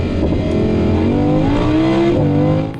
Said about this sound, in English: the R8 sounds louder when you drive it